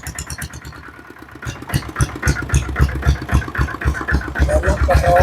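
A 5.5 horsepower diesel Bullet motorcycle engine chugs nearby in quick, even thumps that grow louder, with voices talking over it.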